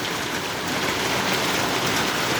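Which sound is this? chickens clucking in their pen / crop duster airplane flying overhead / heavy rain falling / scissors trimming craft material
heavy rain falling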